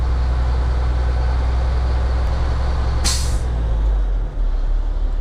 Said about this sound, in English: That was the governor kicking out.